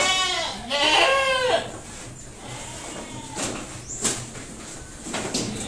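Boer crossbred goats feed on fresh mash, giving a couple of close, wavering bleats near the start followed by quieter rustling, scraping and clatter of eating around the pen.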